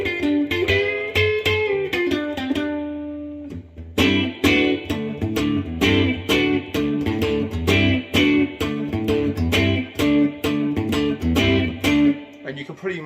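Electric guitar plays a riff during a lesson, with a sustained opening chord followed by a busy, driving strummed pattern. The tone is slightly distorted and close, and no one talks over it.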